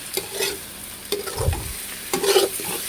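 A spoon scrapes and stirs biryani masala sizzling in a hot pan, with a few distinct stirring strokes over a steady frying hiss.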